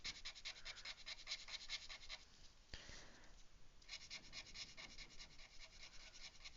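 Alcohol marker nib scrubs back and forth on paper while blending colour, a soft, close rasping in repeated strokes with a brief pause midway.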